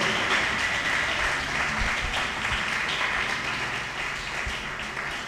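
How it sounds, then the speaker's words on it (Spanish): Congregation applauding inside a church, a steady, moderately distant patter of many hands clapping that continues throughout and fades slightly toward the end, with no talk over it. "Dale un aplauso al Señor."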